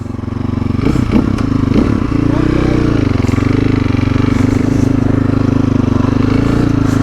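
A motorcycle rides off on a country road trip through north-west Victoria, its engine droning loud and steady close by with wind rush and some clatter, a brief voice early on.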